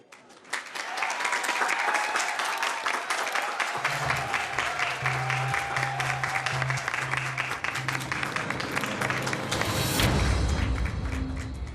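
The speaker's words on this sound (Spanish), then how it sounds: "para quien pido un fuerte aplauso, por favor" A studio audience in a TV drama bursts into loud, sustained applause to welcome a new sponsor, with a low rhythmic musical pulse entering under the clapping and a heavy boom near the end.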